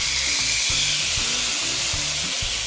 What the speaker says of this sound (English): They've got that good sear. That's what you want to hear.